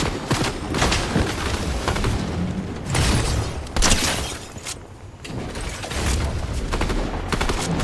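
Shotgun fire in Fortnite Zero Build, heavy booming blasts mixed with other gunfire in a noisy, continuous firefight, loud and near, with bursts spiking every couple of seconds.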